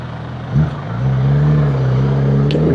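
A truck on the road gives a loud, close engine drone that rises and then holds a steady pitch for a few seconds.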